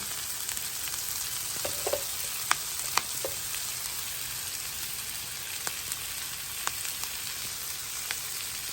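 Shallots sizzling in a pan for beef stroganoff, a steady close frying hiss with scattered small pops and crackles, no talking.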